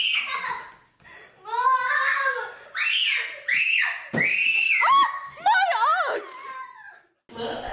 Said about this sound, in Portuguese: Grito, choro e muita agitação. Não há quem não reconheça uma birra de criança.